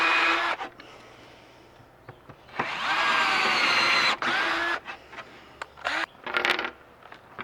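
A power drill drives 2-inch countersunk screws through plywood while a DIY tool chest and miter bench is built, giving several loud whirring bursts of a few seconds each, separated by quieter handling noises and clicks.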